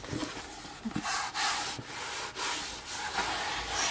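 A handmade journal cover is smoothed out by hand, making quiet, close rubbing and brushing strokes in uneven bursts with brief pauses between them, with no talking.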